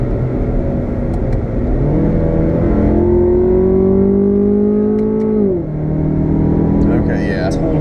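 A 2016 Chevrolet Camaro 2LT accelerates hard at full throttle from inside the cabin, its engine note climbing steadily and loudly before dipping briefly at a gear change and pulling again.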